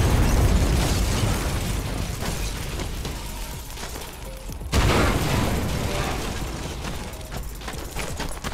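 Explosive blasts in the Sniper Elite 4 war game: a loud booming burst with long rumbling decay, then a second sharp blast midway that rolls off into crackling debris.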